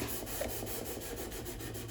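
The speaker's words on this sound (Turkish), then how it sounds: "önce 60 numara zımparayla ben kabasanı zımparalıyorum" Sixty-grit sandpaper roughs down polyester filler on the wooden body of a divan saz, a close, even rasping scrub repeated in quick regular strokes.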